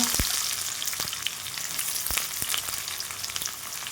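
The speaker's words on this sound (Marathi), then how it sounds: "छान भाजून घ्यायचं तेलामध्ये. हिरवी मिरची आणि कांदा," Green chili and onion sizzle in hot oil with toasted chana and urad dal for a spicy potato dish, a steady broadband frying hiss broken by a few sharp pops and spoon stirs, close and alone with no talk.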